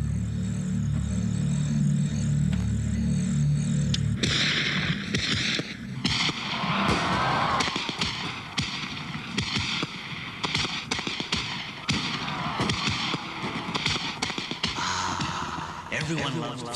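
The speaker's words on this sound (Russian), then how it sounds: "Всем нравится смотреть на красивые фейерверки." Fireworks bursting with sharp cracks and booms, loud and dense at first, then mixed with crowd gasps and chatter over further scattered explosions.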